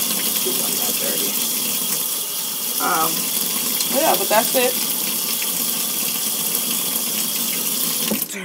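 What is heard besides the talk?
water running from a tap while rinsing makeup brushes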